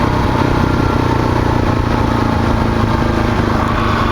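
A motorcycle engine drones steadily at close range throughout, a constant loud rumble with no pauses and no voices.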